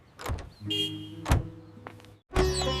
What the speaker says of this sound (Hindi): ठीक उसी वक्त बाहर से एक कार का हॉर्न बजा।